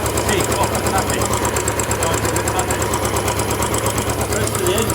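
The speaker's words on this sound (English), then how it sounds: "the only thing I can hear now, let me do this, is a slight tick off the tapping" Royal Enfield Bullet 500 EFI single-cylinder engine idling steadily close by, a constant even tick-over with a faint rhythmic tappet tick running through it.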